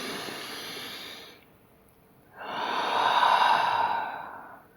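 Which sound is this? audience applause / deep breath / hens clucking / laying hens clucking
deep breath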